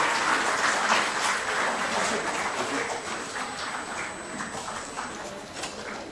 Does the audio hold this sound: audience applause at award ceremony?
yes